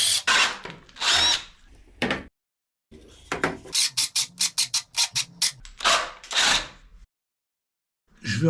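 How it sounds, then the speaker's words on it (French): A hole saw bites into a wooden propeller blank for a wind turbine in short, loud grinding bursts, with a stretch of rapid stuttering cuts in the middle and brief silences between passes. "Ce coup-ci, on y va à la scie cloche."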